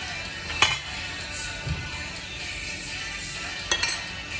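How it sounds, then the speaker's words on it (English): Oatmeal raisin cookie dough stirred by hand in a bowl, a soft steady scraping with a few sharp clinks of the spoon against the bowl, close and fairly quiet. "I'm not going to use any kind of mixer or anything like that. I'm just going to stir it up for you."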